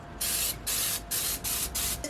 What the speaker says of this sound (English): maybe I'm going to spray it with some nonstick butter